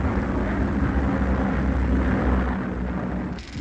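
An aircraft from 1939 approaches with a loud, steady, broadband engine roar that fills the scene with a constant drone, easing only slightly near the end.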